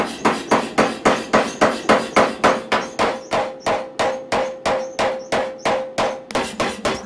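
Hammering mild and hard steel at a forge to weld an axe, a steady run of about twenty sharp metallic strikes in an even rhythm, close and loud, with ringing between blows.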